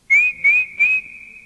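A person whistles three short rising notes in quick succession, the last held a little longer, clear and close with nothing else around.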